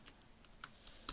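C# code typed on a computer keyboard: a handful of faint, quick key clicks spaced irregularly, with no talking.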